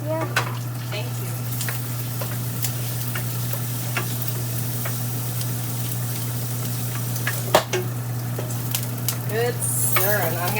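Marry Me Salmon sauce sizzles steadily in a pan while it is stirred, a continuous close frying hiss with scattered light clicks of the utensil, and voices talking softly over it.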